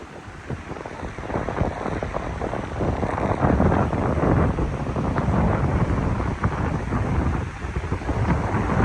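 Strong, steady wind roars and buffets continuously across a farm field, with gusty rumbling surges throughout and no voices.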